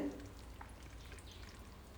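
Breadcrumb-coated eggplant slices frying in oil over a medium flame, a steady close crackling sizzle that holds evenly throughout with no talk.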